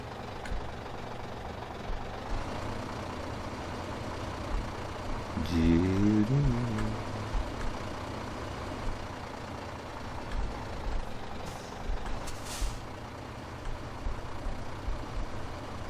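A vehicle accelerating on pavement in Farming Simulator 15: a steady engine drone with a rough, grinding swell partway through and scattered mechanical clatter, moderately loud and continuous.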